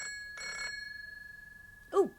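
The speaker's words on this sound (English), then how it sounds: "Oh, there's the phone." Telephone ringing indoors, a single short electronic bell-like ring burst over a steady tone, followed by a brief voice at the end.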